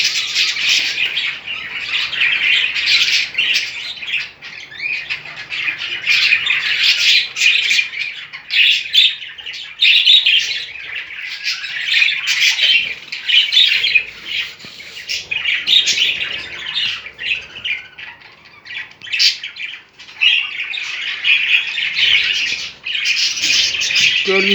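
Many home-bred budgerigars in a breeding cage chirp, tweet and squawk continuously and loudly at close range, a dense overlapping chatter that swells and dips without pause.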